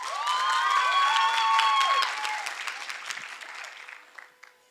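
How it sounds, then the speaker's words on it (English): Loud applause from a leadership event audience, steady clapping with cheering whistles at the start, gradually thinning out and fading away. "Can you give proper round of applause?"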